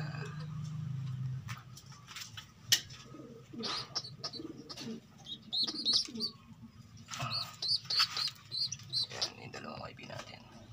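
Young pigeons cooing and chirping in soft, repeated bursts close by, with wing flutters and someone talking intermittently over them.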